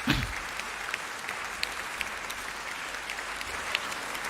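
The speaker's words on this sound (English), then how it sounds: "she deserves a round of applause as well" Steady applause from the audience at a playoff debate on traditional rulers, a dense, even patter of many hands clapping with occasional sharper claps, with no speech over it.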